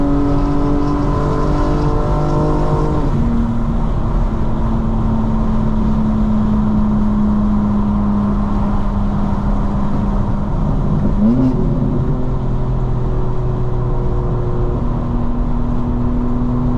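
A modified 2025 BMW M4 Competition xDrive cruises on a highway, its engine a steady loud drone with shifting pitch and constant road and wind roar throughout.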